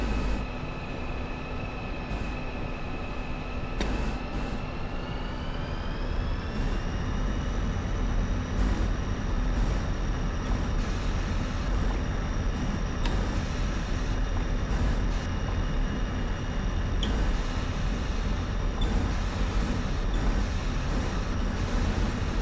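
A MiG-21 jet in a flight simulator taxis along a runway at Groom Lake, its steady engine whine droning continuously and rising slightly in pitch partway through, loud and unbroken with no voices.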